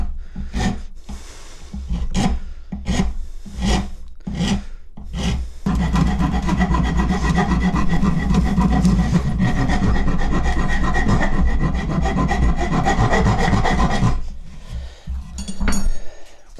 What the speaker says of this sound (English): I'm going to use the flat of the wood rasp, and I'm going to try to round this out to more of a hoof shape